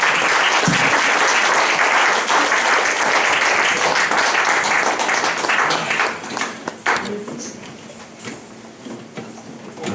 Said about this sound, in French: Nous applaudissons très fort pour la parole de Dieu.